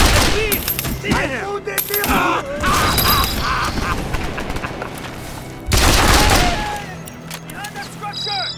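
Several guns fire together in the war game Mercenaries 2: World in Flames, with dense overlapping bursts and a loud volley near the end, while shouted combat voices and music run underneath.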